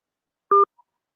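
A single short DTMF keypad tone sounds as a call is placed on a phone, followed by a faint tiny blip, otherwise quiet with no voices.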